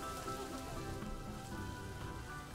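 Steady rainfall in the zoo-building game Planet Zoo, a dense, even hiss of drops pattering on surfaces with no break and no voices.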